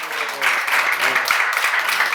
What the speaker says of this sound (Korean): 믿는 사람만 박수 한번 쳐보시오